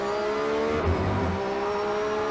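Race car engine at full throttle on the VIR road course, heading downhill: a steady, loud high-pitched engine drone with dense harmonics, swelling briefly near the middle, with no talk.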